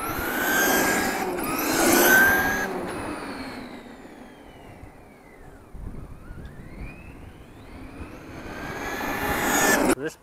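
A brushless RC Traxxas Summit rock crawler truck on Rock Crusher tires runs in high gear on 2S stock gearing, its motor whining up and down in pitch as it passes, loud near the start and end and fading in between.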